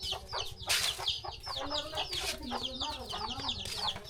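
A group of chickens clucks and squawks at close range in a rural house yard, with overlapping chattering calls throughout and a few louder bursts.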